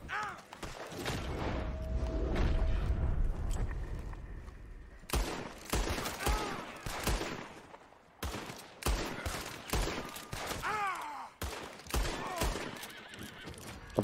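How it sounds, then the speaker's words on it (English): Gunfire in Red Dead Redemption 2 on the streets of Saint Denis, several sharp bursts of shots mixed with horse whinnies and clip-clopping hooves, loud and close. "He's just shooting at me."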